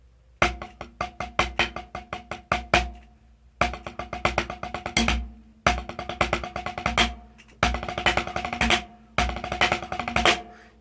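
An inverted 13-stroke drum roll played slowly on a snare, repeated five times as bursts of crisp, evenly spaced strokes with accents, each separated by a short pause and ringing close and loud.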